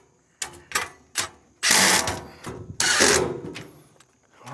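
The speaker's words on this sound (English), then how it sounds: "let's just tighten up all these screws for the legs" A tool tightens screws into the legs of a metal 10-hole roll-away chicken nesting box: three short mechanical clicks, then two long grinding whirs with a click between them, close and loud.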